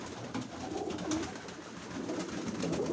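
Pigeons coo softly at their loft, low throaty calls repeating faintly over a quiet outdoor background.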